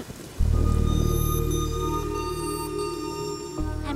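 Steady, loud rain pouring down close by, an even wash of falling water that starts abruptly and runs on without pause, with no voices over it.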